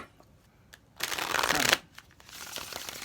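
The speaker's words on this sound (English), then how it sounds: "Let me shuffle 3 times." Tarot cards are shuffled close by in a quiet room: faint taps, then one loud riffle of under a second, followed by softer shuffling.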